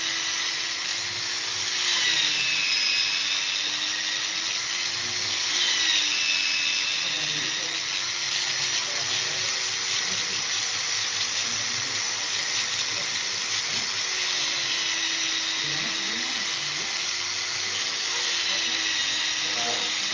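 Hand angle grinder mirror-polishing a machete blade, a steady high-pitched whine that holds for the full stretch with slight rises and dips in pitch as pressure on the blade changes.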